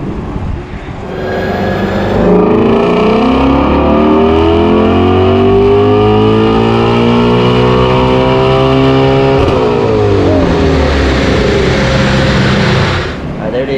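A 2012 Shelby GT500 with a VMP supercharger revs on a chassis dyno toward 7,800 RPM, its engine note climbing steadily in a loud, sustained run before dropping off at the end. A voice speaks briefly under the engine.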